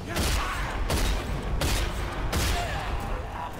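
Shotgun blasts in the video game RAGE, four loud booming shots at roughly even intervals about three-quarters of a second apart, each trailing into the next over a steady rumble of game noise.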